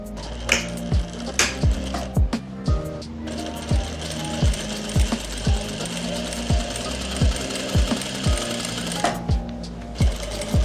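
A sewing machine joins the front parts of palazzo trousers along the seat seam, running continuously in a steady mechanical hum punctuated by regular sharp knocks, close and loud throughout.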